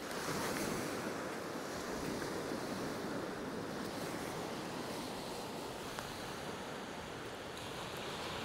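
Sea surf rolling onto a flat Northumberland beach, a constant roaring wash of breaking waves with wind buffeting the microphone, steady and close, no voices.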